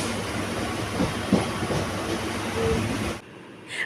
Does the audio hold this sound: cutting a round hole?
no